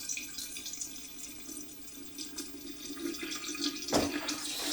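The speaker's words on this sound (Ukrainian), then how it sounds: "Тепер потім просто набираємо воду, набираємо воду холодну." Cold tap water running steadily into a glass jar, a continuous hiss and splash that grows a little louder near the end, with no voices.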